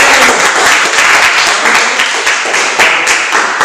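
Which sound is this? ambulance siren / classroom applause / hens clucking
classroom applause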